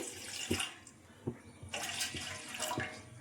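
Water poured into a cooking pot on a gas stove for an herbal decoction, a splashing stream with a few soft knocks against the vessel, close and moderately quiet, no voices.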